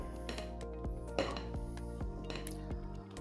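A whisk clinks against a bowl as it is set down while mille-feuille cream is being made, with a series of sharp metallic taps and clinks spaced irregularly over a steady low background hum.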